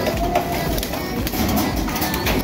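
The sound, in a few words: racing pigeons cooing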